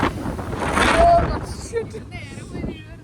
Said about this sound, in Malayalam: ഇത് കാറ്റ് നമ്മളെ പറത്തി വീഴ്ത്തുമല്ലേ